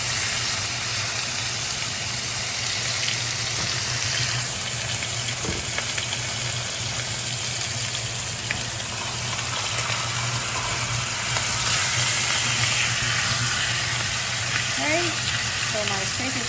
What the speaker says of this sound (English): So here's my steak. I'm just gonna sear all sides.